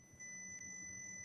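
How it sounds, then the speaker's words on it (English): A faint, steady high-pitched electronic tone sounds continuously over a quiet background, with a brief blip partway through. "somebody beeping."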